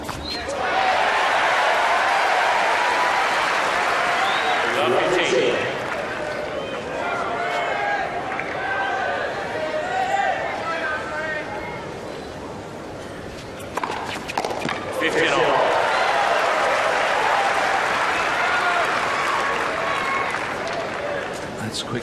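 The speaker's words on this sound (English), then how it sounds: "Listen to the crowd trying to raise Andre as Federer serves up a break in the 4th" A tennis crowd at the 2002 Miami final cheers and applauds to lift Andre Agassi against Federer, two loud surges of clapping and roaring separated by a quieter lull, with a commentator's voice over it.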